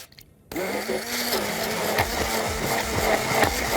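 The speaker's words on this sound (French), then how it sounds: "On va mixer maintenant." Electric mixer whirring into pancake batter made with honey, flour and egg yolks, starting abruptly after a moment of quiet and then running as a steady close motorized whir with rhythmic beater thumps.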